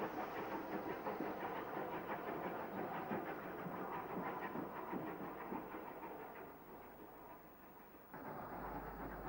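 A Southern Railway West Country class steam locomotive, Bere Alston, drawing an up Weymouth train into a station, with a steady rumbling roll and clatter of carriages near at hand that eases slightly before swelling again.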